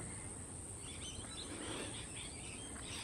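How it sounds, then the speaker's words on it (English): Faint parrot chirps and calls at dusk drift over a steady high insect drone and low background hum, distant and soft. "Can you hear all the parrots? All the parrots are settling in for the evening."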